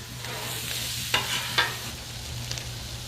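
Frozen cheese tortellini with sausage and spinach frying on a Blackstone griddle, a steady close sizzle broken by two sharp scraping stirs.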